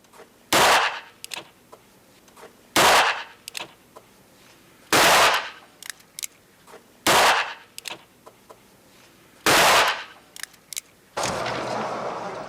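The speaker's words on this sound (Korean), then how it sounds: "사격 연습을 하는 것도 인명 보호와 신속한 검거를 위해서다." Gunfire at a police shooting range during detectives' target practice: loud, sharp shots spaced about two seconds apart, each followed by quieter trailing cracks and echoes, ending in a longer burst of noise.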